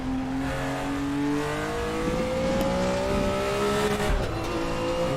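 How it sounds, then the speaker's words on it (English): An M1 Procar race car engine in a sim racing game at Bathurst drones steadily at high revs, the pitch climbing slowly through a gear before a brief dip, with no talk over it. "Let's let Olaf listen to that engine."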